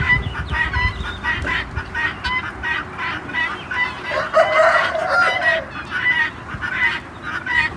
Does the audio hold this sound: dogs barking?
no